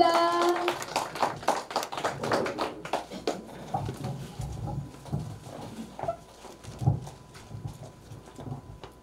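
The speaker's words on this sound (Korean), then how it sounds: "큰 박수 부탁드립니다" Scattered, uneven clapping from a modest audience at a Korean singers' association chairman inauguration ceremony, individual claps audible in loose rhythm, fading toward sparse claps and a faint voice.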